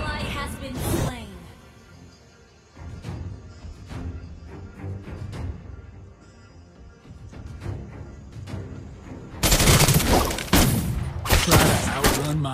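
Rapid bursts of gunfire from the mobile battle game Mobile Legends mixed with game music and effects, rising into a dense loud volley near the end.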